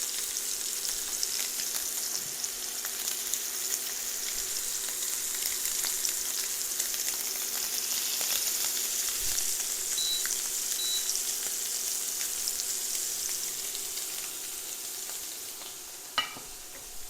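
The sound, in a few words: scallops searing in a pan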